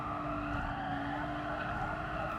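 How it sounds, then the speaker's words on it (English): A race car in the GT Sport video game brakes hard for the final corner of a race, its engine drone and tire noise running steady and loud for a couple of seconds without any talk. "Braking for the final corner."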